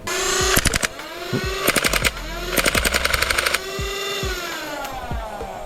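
A space sci-fi style full-auto foam blaster firing stock darts in three rapid bursts, each a fast rattling string of shots over a loud whirring flywheel motor that spins up and winds down, close by.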